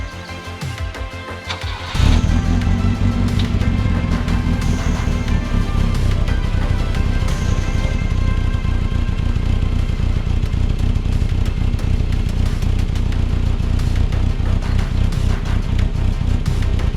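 An engine starts with a sharp burst, then idles and revs steadily in a loud, rumbling drone that continues throughout.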